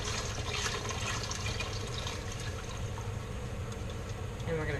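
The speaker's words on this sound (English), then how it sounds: "we're going to add our stock straight into the pot." Stock poured into a pot for Thai lemongrass soup, a continuous splashing, gurgling liquid pour lasting the whole stretch at moderate loudness, close by.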